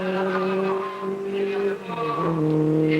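A 1958 Formula 1 Lotus and Cooper race at Spa-Francorchamps, their engines holding loud, steady tones that drop in pitch as the cars pass.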